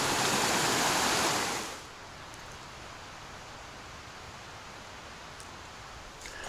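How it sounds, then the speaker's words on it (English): Creek water rushes loudly over rocks at a trail crossing on a spring backpacking route, a dense roar for about two seconds before settling into a quieter, steady flow. "you gotta navigate across this creek crossing now. Water's running pretty good too"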